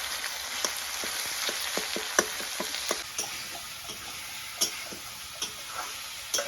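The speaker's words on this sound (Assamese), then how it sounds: "এতিয়া অকণমান টাইম মই ভাজি ল'লোঁ" Garlic, chili and cumin pastes fry in oil for an eel fish curry, making a soft, steady sizzle scattered with sharp crackling pops, close by and without talking.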